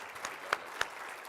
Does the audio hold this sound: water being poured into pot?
no